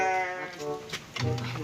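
A sheep gives a long wavering bleat close by, followed by a shorter second call, with some faint background noise.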